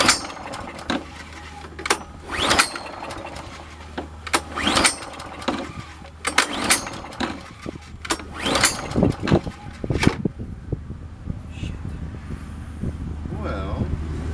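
A small engine being cranked on a spring-ready machine with a self-priming carburetor repeatedly turns over without catching, a rough rhythmic churning in bursts, loud and close, with wind noise and a voice talking over it.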